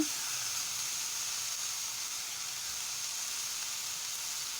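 Goat spleen sautés with ginger and garlic in a pan, giving a steady, even sizzling hiss throughout, moderately quiet and close, with no other sounds or voices.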